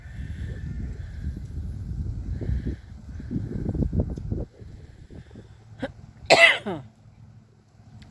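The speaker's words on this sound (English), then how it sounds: "Sorry about the coughing." A person coughs loudly once in a short harsh burst near the end, after a stretch of low outdoor rumble and rustling, with no one speaking.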